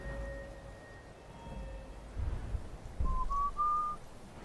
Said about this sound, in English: Stop whistling in the microphone.